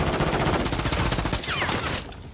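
Rapid gunfire in the Modern Warfare 3 video game, a dense continuous volley of close, loud shots that eases slightly near the end.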